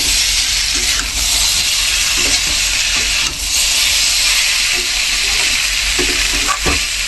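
Fish curry with green chillies and lentil dumplings cooks in a pan, giving a loud, steady broadband sizzle and hiss that runs unbroken throughout, with a few faint clicks of stirring.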